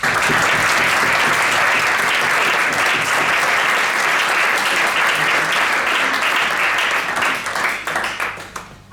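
A semi-final science talk audience claps in a loud, dense burst that holds steady and then thins out into a few last claps.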